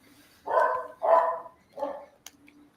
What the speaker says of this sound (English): Your dog barks a lot more than mine does.